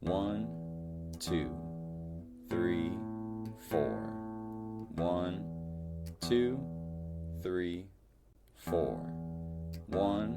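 Low plucked guitar notes play a simple bass line while a voice counts beats aloud over the playing.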